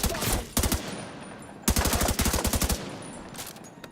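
Gunfire in The Division 2 video game comes in rapid automatic bursts, two loud clusters of quick shots separated by a pause, with fainter scattered shots and background game ambience.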